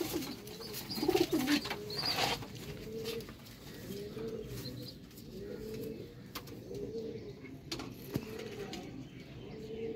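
Master Abdullah's pet pigeons coo steadily, with soft repeated rolling coos in a loose rhythm, nearby but quiet, and a few sharper chirps over faint background noise.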